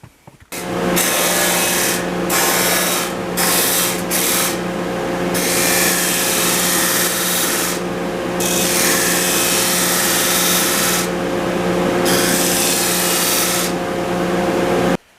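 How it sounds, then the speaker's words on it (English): A power sander whirs loudly and continuously as it sands the ends of a wooden pattern piece, with a constant high abrasive hiss and a brief pause near the start. "So I'm going to go over to sander, sand this off"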